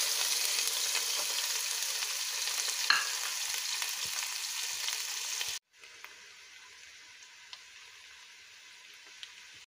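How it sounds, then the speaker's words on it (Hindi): Onions frying in hot oil sizzle in a steady, close hiss that drops to a quieter sizzle midway, with a few faint stirring clicks and no talking. "आयल गरम हो चुका है, इसमें प्याज को ऐड करते हैं।"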